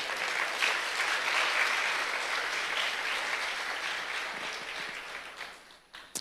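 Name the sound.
church congregation applauding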